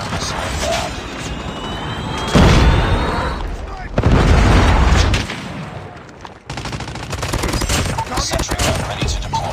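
A Call of Duty predator missile strike in a 10 vs 10 deathmatch on Raid lands with heavy booming blasts and rumbling explosions amid constant gunfire and game noise.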